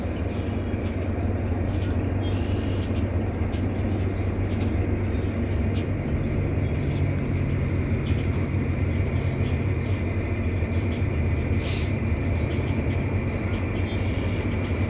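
A loud train passes close by as a steady, unbroken rumble and roar that holds at full strength throughout, with no talk over it.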